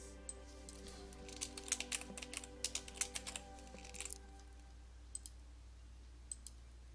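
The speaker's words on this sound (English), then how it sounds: "Let me just type her name in." Quiet, light clicking of keys on a computer keyboard as a name is typed, a short cluster of taps followed by a few scattered presses over a low steady hum.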